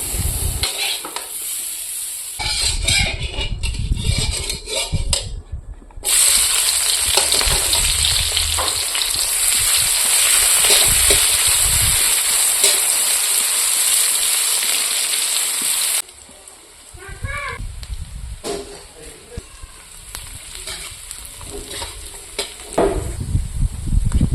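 Onions frying in a pan of oil, a bright continuous sizzle with occasional stirring scrapes, loud in the middle stretch and quieter before and after.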